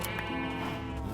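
Sheep in the video game Minecraft bleat in a wavering, nasal cry that fills the short moment at steady, fairly loud volume, with no talk over it.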